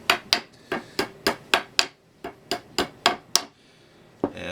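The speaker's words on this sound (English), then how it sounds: "I tap in the finishing nails." A hammer taps finishing nails through a steel jig into a wooden leg in sharp, evenly spaced strikes, about a dozen in two quick runs with a short pause between, close and clear with no talking.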